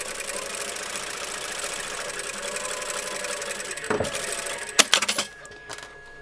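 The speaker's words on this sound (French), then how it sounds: "On va donc coudre la latérale." A sewing machine runs steadily, stitching the side seam of a quilted, zipped patchwork pouch. The whir holds for about four seconds, then gives way to a few sharp clicks and knocks before it goes quiet.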